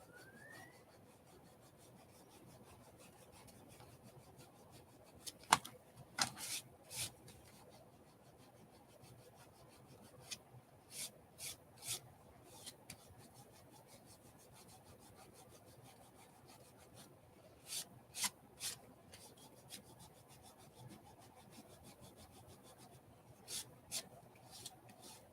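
Scattered bursts of rubbing as material is worn away on a handmade serial killer journal prop, short scraping strokes in clusters separated by quiet pauses, close but soft.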